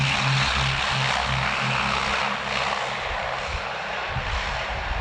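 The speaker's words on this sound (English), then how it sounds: "John Webb gets the Blenheim Airborne about to commence his display." A Bristol Blenheim's piston engines drone loudly and steadily as the aircraft lifts off at an airshow, a dense propeller roar with a low throbbing pulse that holds close and constant throughout.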